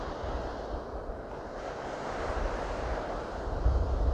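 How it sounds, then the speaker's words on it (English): Ocean waves wash in a soft, continuous broadband rush, fairly faint and steady, with a low rumble swelling slightly near the end. "listen to the sounds of the ocean"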